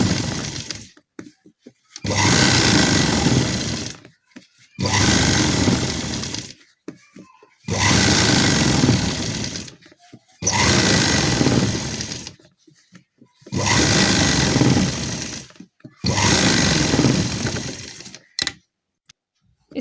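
Sewing machine stitching elastic onto a gharara, running in six rapid whirring bursts of about two seconds each, separated by short silent pauses, close and fairly loud.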